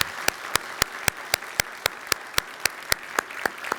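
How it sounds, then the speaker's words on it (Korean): A church congregation at a Sunday service claps in steady unison, about four sharp, even beats per second over a soft background murmur of the room. "우리 축복과 축하의 박수 부탁드립니다"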